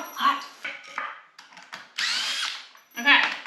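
Power drill backing screws out during a garage storage build, several short bursts of whirring motor separated by pauses, loud and close, ending with a longer run and a final burst.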